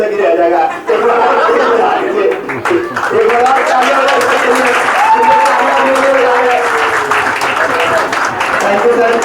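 Students at a farewell event for a sociology optional class clap loudly and steadily, with chatter and some chuckling under the applause and a voice speaking over it.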